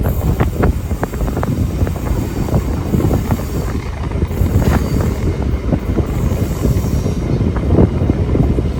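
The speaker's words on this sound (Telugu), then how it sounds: "మన ట్రైన్ అయితే ఇప్పుడే రెండో స్టాప్గా వీరా వసరం స్టేషన్లోకి అయితే ఎంటర్ అయిపోతుంది" A MEMU express train rolls into Veeravasaram station with a steady rumble of wheels on rails, rattling carriages and wind buffeting from inside the coach, continuous and fairly loud throughout.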